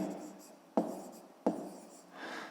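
Pen or chalk writing a math answer on a surface, two distinct strokes with soft scratchy rubbing in between, close and fairly quiet, with no talk.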